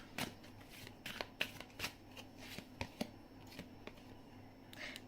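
Tarot cards are shuffled and drawn by hand in a series of close, crisp riffles and soft slaps, quiet and irregular, with no talking.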